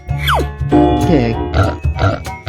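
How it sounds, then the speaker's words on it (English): Cartoonish pig grunts from a 3D animal slide video game, short and loud, mixed with game music and effects while a voice talks over them. "Pig."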